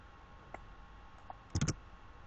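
Computer mouse clicks, a couple of faint single clicks followed by a quick cluster of sharper clicks, close and quiet with no talking.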